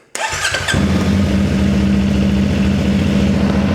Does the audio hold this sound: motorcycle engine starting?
yes